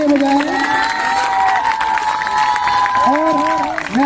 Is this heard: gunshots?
no